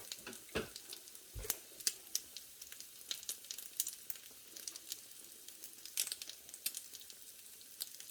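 Thai omelette frying in a pan, a quiet background sizzle punctuated by scattered crackles and pops, a few sharper clicks and knocks near the start.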